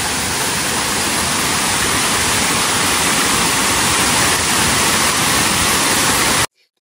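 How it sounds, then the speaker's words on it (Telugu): A heavy waterfall roars loudly and steadily as a dense, unbroken wash of pouring water that holds at full strength, then cuts off abruptly near the end. "మస్తు పోతున్నాయి నీళ్ళు మాత్రం"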